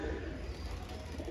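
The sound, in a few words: pigeon cooing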